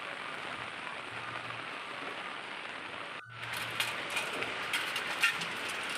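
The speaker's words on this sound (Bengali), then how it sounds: "তো দেখো প্রচুর বৃষ্টি হচ্ছে" Heavy rain pouring outdoors, a dense, steady hiss of drops on surfaces that shifts slightly partway through as the position changes, with scattered louder splashes.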